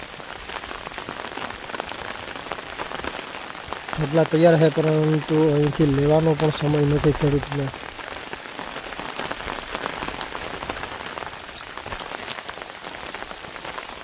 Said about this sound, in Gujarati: જે આ કન્ટિન્યુ વરસાદ ચાલુ છે તમે જુઓ